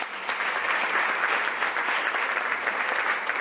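A lecture audience gives a steady round of applause for a legal talk on bullying prevention, a dense, even patter of many hands held at moderate level for several seconds with no voices over it.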